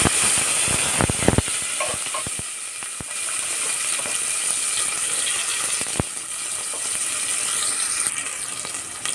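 Chopped small onions fry in coconut oil with a steady close sizzle, broken by a few sharp clicks and spatters near the start, and no one talking.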